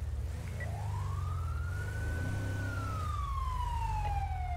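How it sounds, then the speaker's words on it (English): Ambulance siren heard from inside a vehicle: a single long wail climbing, holding, then gliding down, moderately distant over a low engine rumble, with no talk. "Oh, hello, local ambulance."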